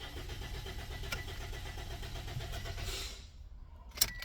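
A Toyota engine cranks with a rapid, rhythmic churning that continues for about three seconds and then stops without catching, followed by a brief sharp click.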